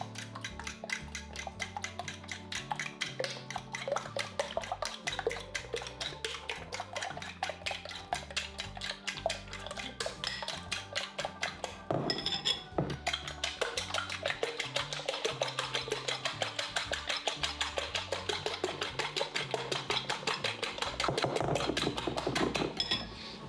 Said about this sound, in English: getting our fork, holding a bowl slightly to the side, and we just gently beat them together